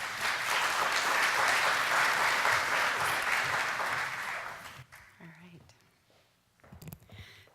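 An audience at an evening health talk gives a warm round of applause as the speaker is welcomed to the stage. The clapping is dense and sustained for several seconds, then thins and fades as a voice starts speaking.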